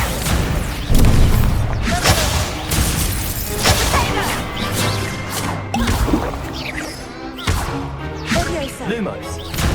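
Confringo fire-blast spell cast in Hogwarts Legacy: a dense run of whooshing bursts and booming impacts, loud and busy, layered over a thick bed of game effects for the whole stretch.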